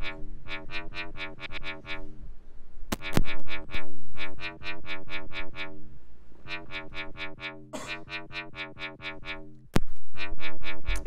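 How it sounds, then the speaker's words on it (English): Simple FM synth bass layer for a UK bass track plays a stuttering, rhythmic run of short buzzy notes in bursts, with a few sharp hits cutting through, loud and alone. "the next thing that we have here is this third layer of the bass"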